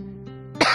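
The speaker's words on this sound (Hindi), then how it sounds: "सामने से फिर से खांसने की आवाज आई।" A single sharp cough bursts out close and loud after a brief tonal hum, with no talk.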